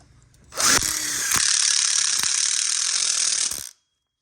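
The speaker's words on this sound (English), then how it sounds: "you should be able to screw it together just as easy as we're doing here on the video" A drill drives screws to join the tube frame of an 8 ft non-telescoping outdoor kitchen module kit. One loud, close, continuous ratcheting whir lasts about three seconds, then stops abruptly, with no talking.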